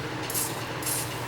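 Contact cleaner sprayed onto the channel contacts of a 38-year-old Samsung black-and-white TV, two hissing aerosol bursts in quick succession over a steady low background hum.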